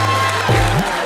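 Studio audience applause on the comedy stage show Comedy Nights Bachao, a loud, dense burst of clapping that fills the whole short moment with steady, even intensity.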